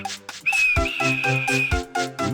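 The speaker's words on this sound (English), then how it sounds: "And he blew his whistle." A steam locomotive whistle on a storybook tank engine sounds one long, steady high tone, loud and close, with soft music running underneath.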